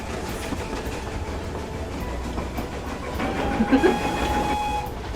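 A passenger train rumbles steadily with a dense roar and faint rhythmic clatter, swelling louder near the end as if entering an enclosed tunnel.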